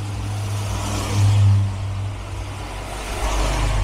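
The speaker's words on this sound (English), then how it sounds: "There are still cars going past, but not ones for the show." Cars passing by on the road near the Castle Combe circuit entrance, a steady loud engine rumble swelling as one vehicle goes by, with traffic continuing throughout.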